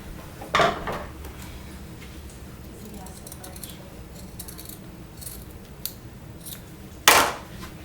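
Scissors cut fabric for a reversible purse during a sewing project: two sharp, close snips about six seconds apart, with quiet room sound in between.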